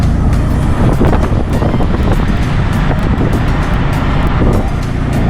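A tuk-tuk travels a seaside road in Sri Lanka, its engine drone buried under loud, steady wind buffeting and roaring air rush from start to finish, with no voices.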